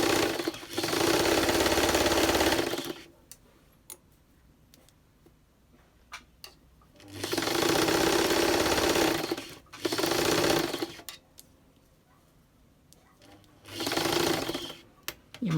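A sewing machine stitches a bodice in several runs of fast, steady mechanical whirring and ticking, close and loud, separated by quiet pauses with faint handling sounds.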